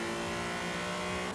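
A Nissan Silvia launches hard off the line in a racing game, its engine held at a loud, steady high-revving roar that stays constant and close throughout, with no talking.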